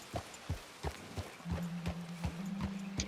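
Horse hooves clip-clopping at a steady walking pace in Red Dead Redemption 2, about eight even, close hoofbeats over a faint sustained tone.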